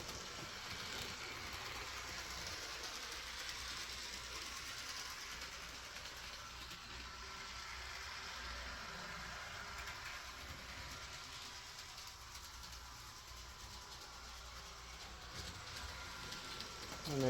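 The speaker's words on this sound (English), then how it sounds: "But this is a Alco FA." A Rock Island Alco FA diesel model locomotive runs along its track, a faint continuous rolling rumble with light rail noise and hiss, steady and quiet with no talk throughout.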